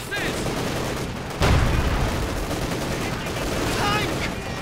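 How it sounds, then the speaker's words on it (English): Company of Heroes 2 battle with an officer's artillery barrage: dense crackling bursts of gunfire with a heavy boom partway through and continuous rumbling explosions. "we're actually seeing the artillery barrage being used there by the officer"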